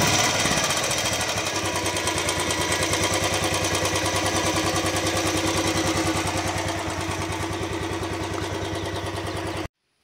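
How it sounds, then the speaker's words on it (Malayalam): A Royal Enfield Bullet 350 BS6 idles with a fast, even thump, close and loud, carrying a faint fuel pump hum beneath before cutting off abruptly near the end. "ഇപ്പോൾ ഈ വണ്ടിയുടെ എൻജിൻ സൗണ്ടിൻ്റെ കൂടെ തന്നെ ചെറിയൊരു ഫ്യൂല് പമ്പ് ചെയ്യുന്നതിൻ്റെ ഒരു ചെറിയ മൂളക്കം കേൾക്കാം"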